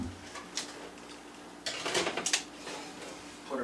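A pan of homemade brownies goes into a preheated oven: a few sharp metallic clanks and rattles of bakeware, with a louder cluster of knocks midway, over a quiet kitchen background.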